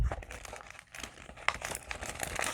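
A paper junk-mail envelope is folded and squished by hand, giving close, soft crinkling and crumpling with a sharper crackle partway through and no talking.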